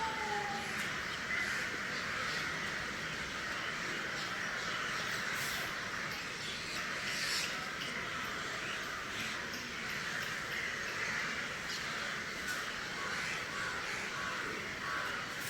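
Crows caw over and over around coconut palms in an outdoor evening setting, a busy chorus of harsh calls layered from near and far against a constant hiss of ambient noise, with no one speaking.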